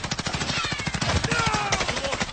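Rapid automatic gunfire in a video game, a continuous burst of dense, evenly spaced shots lasting the whole moment, loud and close with no talking over it.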